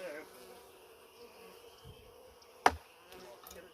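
Honeybees from a package being installed into a hive, a soft continuous buzzing hum close by, with one sharp knock from handling equipment partway through.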